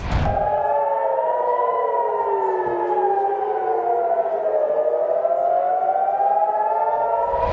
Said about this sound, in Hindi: इजराइल के हाइफा में तो लगातार सायरन बज रहे हैं